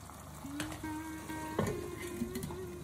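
Chopped tomato hitting hot oil in a pan for eggplant korma, a Tagore household recipe: a soft, even frying hiss with a few light stirring knocks, fairly quiet, over a faint steady tone.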